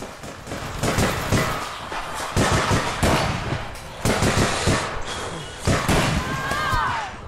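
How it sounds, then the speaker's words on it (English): Shotgun fire in the online shooter APB Reloaded, several loud, sharp blasts and thuds in quick succession, close and punchy over game noise. "just got shotgunned in the ass."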